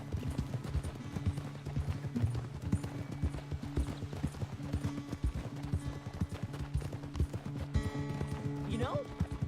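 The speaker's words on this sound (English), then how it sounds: "Seems like a nice gallop." A horse in the video game Red Dead Redemption 2 gallops with a steady, close rhythmic clip-clop of hooves throughout, while a voice talks over it near the end.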